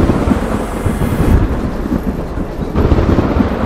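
Heavy thunder rumbles and rolls continuously in a horror audio drama, loud and close, with a brief dip before the rumble swells again.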